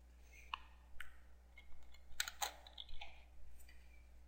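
Several quick clicks of computer keyboard keys as a short search word is typed, faint and close, with brief pauses between keystrokes and no talking.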